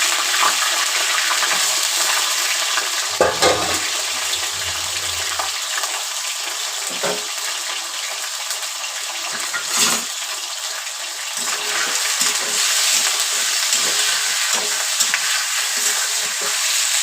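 Meat frying in hot oil inside a pressure cooker, giving a steady, bright sizzle throughout with a few louder spits and scraping stirs, close and continuous.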